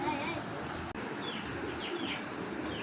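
Pigeons, including a pair of Sapchila pigeons, coo faintly amid light chirps and a steady background din, with a brief dropout in the middle.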